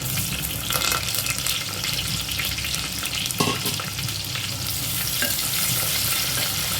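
Spring onion pieces frying in a pan alongside a couple of dried red chillies for a moong dal pappu charu: a steady, loud sizzle with a brief stirring scrape, no voices.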